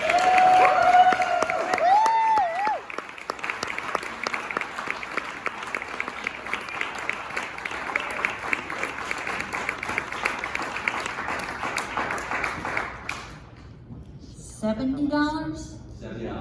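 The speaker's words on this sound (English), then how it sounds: "Big round of applause for Marya Morris." A live audience at Madame Zuzu's gives loud, sustained applause for a storyteller, dense clapping and some cheering running for about thirteen seconds before cutting off, followed by a brief quieter stretch.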